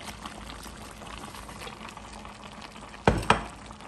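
Wet water leaf greens drop into hot oil in a soup pot for a Nigerian soup, giving a sudden loud sizzle and crackle near the end after a steady low simmering hiss.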